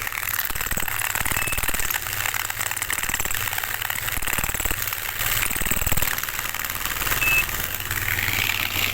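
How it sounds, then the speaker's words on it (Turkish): A tiny motor runs loud and close with a steady, rattling buzz that holds for the whole stretch, slight surges in the middle, no talk over it. "Bu küçücük motor yapıyor ha."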